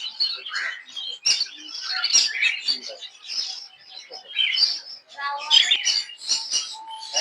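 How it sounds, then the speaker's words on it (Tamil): Several small sparrows chirp busily at a daily market in Malaysia. Their quick, overlapping bright tweets come close and fairly loud, in irregular bursts with no pause. "இந்த குருவி பாருங்க, சிட்டுக்குருவி"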